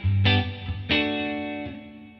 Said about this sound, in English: let's just add in a hall reverb